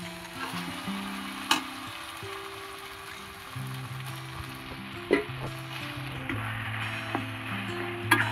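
Taro leaves and whole green chilies sizzle steadily in a hot pan, a soft continuous frying hiss broken by a few sharp clicks and clinks, with faint humming tones underneath.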